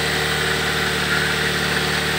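A Toyota Xenia car engine is held at a steady 2000 RPM during a tune-up, giving a continuous, even drone from close by with no breaks.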